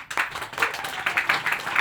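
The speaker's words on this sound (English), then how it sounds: "Claps." An audience at a devotional talk claps in a short, brisk round, with many hands overlapping in an uneven patter that stays fairly close and moderately loud throughout.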